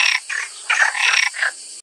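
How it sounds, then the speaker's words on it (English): A frog croaks in a series of raspy bursts, about four rough calls in under two seconds, loud and close with short pauses between them. "Frog,"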